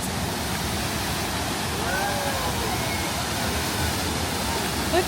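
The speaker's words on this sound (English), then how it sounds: "Wow, look at the waterfalls." Steady rushing roar of Sauniatu Falls, a waterfall in Samoa, heard as constant broadband water noise, with people talking faintly over it.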